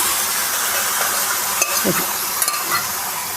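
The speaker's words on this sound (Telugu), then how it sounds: "కొబ్బరి వేసేసాను పోపు దోరగా వచ్చేసింది ఇప్పుడు ఇలా కలిపేసుకున్నాక ఈ పప్పుని అది కూడా వేసేస్తున్నానండి" Grated coconut and chana dal are stirred into a sizzling tempering for a ridge gourd curry, giving a continuous frying hiss with a few soft spoon scrapes and clicks.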